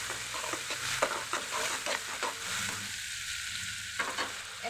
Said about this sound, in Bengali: এখন সব মশলাটা অনেক সাথে ভেজে নেব